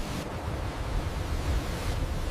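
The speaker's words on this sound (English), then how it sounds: "The ship tilts perilously as the sea rages around it." Raging Arctic sea waves crash around a tilting ship. The roar of surf and wind is steady and loud, with a surge building through the middle.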